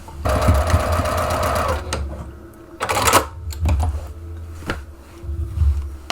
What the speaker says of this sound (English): I will be stitching from the top to the seam.